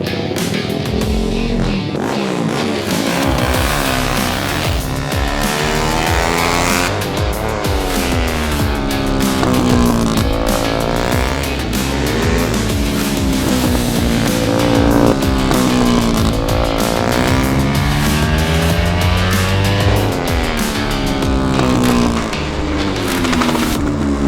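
A car is driven hard on test tyres. The engine roars at close range and rises and falls through the gears, with long tyre squeals as it corners. The noise stays loud throughout, with no voices.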